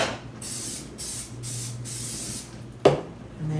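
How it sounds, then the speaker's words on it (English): Cooking spray hisses onto pans for an egg casserole in several short bursts, followed by a knock and clatter of a pan being moved. "So I'm going to spray these a little bit."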